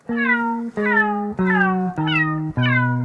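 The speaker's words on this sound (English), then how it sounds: "The obligatory, as a cat lover, meow sound." Five loud, close cat meows in steady succession, each a drawn-out, slightly falling cry with barely a pause between them.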